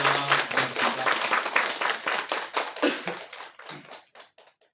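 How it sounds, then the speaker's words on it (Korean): A church congregation applauds to welcome a special missionary at a retreat, with dense clapping that gradually thins into a few scattered claps at the end. "크게 박수 보내드리겠습니다"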